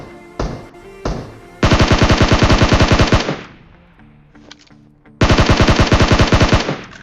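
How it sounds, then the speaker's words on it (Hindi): SCAR-L rifle with a 3x scope firing in a battle-royale shooter match at a military base: two loud single shots, then two long rapid automatic bursts separated by a quieter pause, close and punchy. "और स्कारल पे 3x लगा के मारूंगा उसको मैं।"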